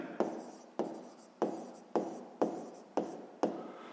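Handwriting on paper during a sixth-grade maths exercise: seven evenly spaced pen strokes, each a sharp scratch that fades out, close and fairly quiet with no talk.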